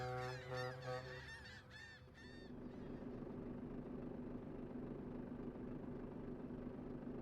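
A truck horn in Euro Truck Simulator 2 sounds several times in quick, loud blasts, then gives way to a steady engine hum.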